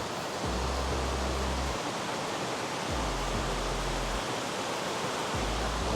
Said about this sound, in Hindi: ये ईरान की हाईएस्ट वाटरफॉल है।